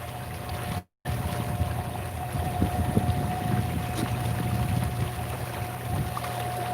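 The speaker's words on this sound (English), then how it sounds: "It's my DIY electric kayak." A DIY electric kayak moves across a lake in a cove on the Jackson Cuda, giving a steady motor whine over continuous water rush and wind noise on the microphone, broken by one brief dropout.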